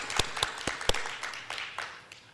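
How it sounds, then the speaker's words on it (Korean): Sparse, uneven clapping from a church congregation at a Sunday worship service, a handful of distinct claps then a soft spread of hand claps fading out, fairly quiet and with no voices. "우리 큰 박수를 올려드렸으면 좋겠습니다"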